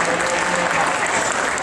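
An audience claps in steady, dense applause for champion steers at a livestock show, heard briefly and close to the crowd.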